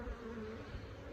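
Honey bees buzz close up at a hive frame in an apiary, a continuous low, slightly wavering drone lasting about a second, quiet and free of speech.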